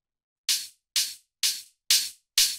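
Layered tech house hi-hats without saturation hit five times at an even pace, each a crisp, airy burst of noise with a short decay, alone and dry.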